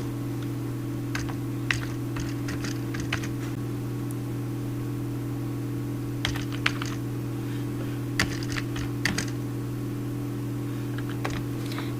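A new sheet name being typed on a computer keyboard, with scattered clusters of light key clicks over a steady electrical hum, close and sparse with no talking.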